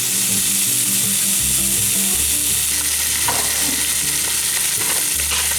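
Bacon sizzles loudly and continuously in a pan with a few faint scraping stirs, a dense, close frying hiss throughout.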